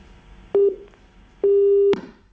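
A telephone busy tone on a failed live phone-in call to a farming radio program, sounding as two clear steady beeps, a short one then a longer one, each ending in a click, over faint line hiss.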